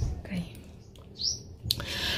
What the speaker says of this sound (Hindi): अब चिड़िया की आवाज़ आप सुन रहे हो ना